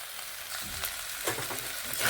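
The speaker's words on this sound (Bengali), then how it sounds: "ভেজে নিচ্ছি এইভাবে ভেজে নিতে হবে" Spring onions frying in a pan give a steady, close sizzle with a soft stirring scrape, brief and unbroken, with no voices.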